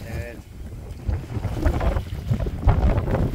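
Strong gusty wind buffets the microphone with heavy low rumbling, alongside water lapping nearby on a sailboat at Elafonisos island, Greece.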